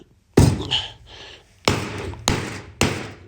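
Coin-filled money box being struck to break it open, four heavy thuds with a rattling jangle after the first, close and loud with no talk.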